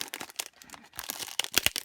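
Packaging crinkles and crackles at a crafting table during earring making, with short, dry rustles in a quick irregular run, quiet and close with no voices.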